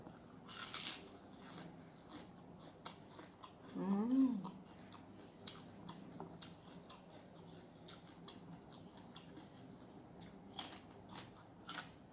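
Crisp young sunflower sprouts are bitten and chewed, served alongside a spicy pounded fresh-shrimp salad. Soft, faint crunchy bites come in a sparse, irregular run over a quiet background, with one brief chirping tone partway through.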